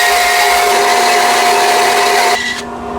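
A power saw resawing wood planks in a woodworking shop, a loud steady whining cut with a constant high tone, running for over two seconds before the pitch drops and the noise eases off.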